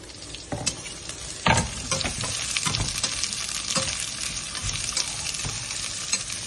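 Onions frying for pulao in a hot pan give a steady, close sizzle with irregular stirring scrapes and clatters throughout, and no voices.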